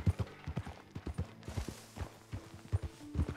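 Horse hooves clip-clop in a steady trotting rhythm while riding at night in Red Dead Redemption 2, the quiet game sound continuing throughout at moderate pace with no talking.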